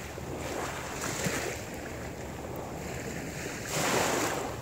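Ocean waves break at Narrows Beach in Gig Harbor, Washington, a steady wash of surf with wind rumble and one louder surge near the end.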